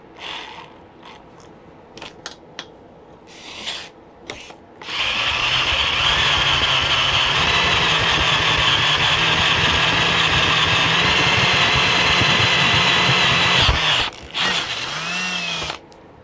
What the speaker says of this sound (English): I have 8 holes to drill in a round tube with no vise.